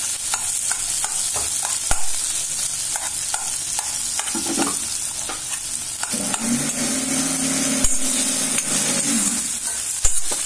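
Chopped tomatoes sautéing in a pan for paruppu rice, a steady sizzle with spoon scrapes and taps against the pan scattered through, a couple of sharper knocks standing out, no voices.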